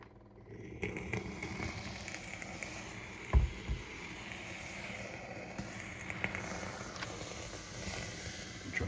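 A handheld steamer hisses steadily and continuously over a comic book, a first appearance of Gambit in X-Men #266, while its spine is steamed to flatten ticks; one brief soft thump sounds midway.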